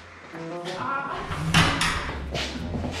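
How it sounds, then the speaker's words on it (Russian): A door slides shut with a short mechanical thud about midway through, mostly buried beneath continuous talking. "Закрою двери."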